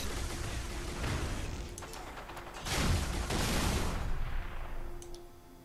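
Gunfire in Halo 3: ODST, a spread of shots and crackling impacts under a dense, noisy battle wash, with one heavier burst standing out midway before the roar tails off.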